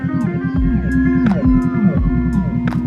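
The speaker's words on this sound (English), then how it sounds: "And I hear sirens, but I don't see them." Emergency sirens wailing through traffic during a motorcycle ride, several overlapping rising and falling tones sweeping repeatedly, loud and close over a steady engine drone.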